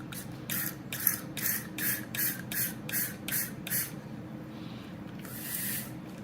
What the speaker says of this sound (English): about 10 spritzes or so of rubbing alcohol